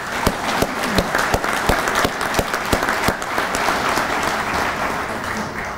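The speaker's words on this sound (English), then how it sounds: "Please give them a round of applause." Loud, dense applause from an American Legion audience, steady throughout with sharp individual claps standing out.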